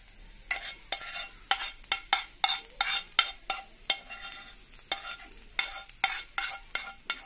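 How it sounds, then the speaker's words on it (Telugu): Onion pieces fry in cow ghee with repeated stirring, a spoon scraping the pan in a steady rhythm of sharp strokes over a faint sizzle, close and fairly quiet, with no voices. "ఆవు నెయ్యిలో ఇలా వేయించండి."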